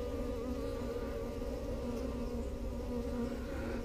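Honey bees swarm around a Flow Hive frame, a dense continuous buzz heard close up for a few seconds with no voices.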